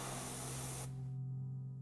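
A short, close hiss of ink sprayed onto artwork, loud and steady before cutting off abruptly, leaving a low background hum.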